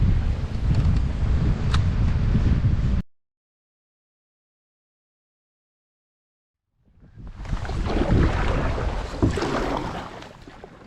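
Strong 20 to 25 mph wind on a Michigan lake in October while kayak fishing, a loud, rushing roar buffeting the microphone, cutting to silence midway before gusting back in.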